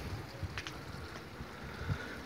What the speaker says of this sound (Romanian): Început să bată vântul.